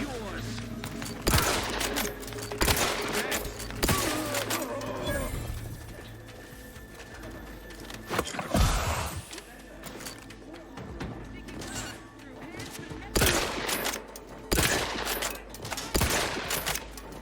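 Gunfire from a weapon in the video game Outer Worlds 2: repeated sharp, loud shot bursts across the whole stretch, some fired in rapid strings and others spaced apart, over game ambience with voices talking in between.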